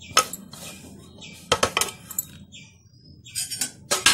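Chopped onion, capsicum and grated carrot being stirred in a bowl for a bread omelette, with a few sharp clinks of a utensil against the bowl in separate bursts, close and fairly quiet.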